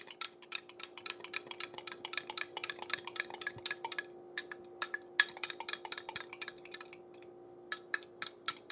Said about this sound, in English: Fork whisk it a little.